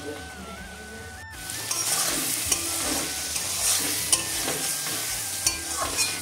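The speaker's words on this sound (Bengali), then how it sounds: "এরকমই ভাজা ভাজা করে নেব।" Small boiled crabs stir-fried dry in a pan with no added water for a spicy crab dish, heard up close as a steady sizzle broken by repeated scraping strokes of the stirring spoon.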